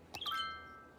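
A short two-note chime from the city-building game Cities: Skylines marks a milestone, a bright double ding whose upper tone rings on and slowly fades over quiet background.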